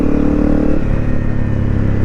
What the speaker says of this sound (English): as you can tell with that Delcovic on it, it's quite noisy